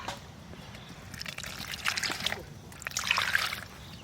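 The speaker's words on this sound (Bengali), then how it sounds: "এবার আমি গোলাটারে বানাই নেব উষ্ণ উষ্ণ গরম জল দিয়ে" Warm water poured from a container into a semolina and flour mix, a soft trickling and splashing that swells and fades in two stretches, close and moderately loud, with no talking.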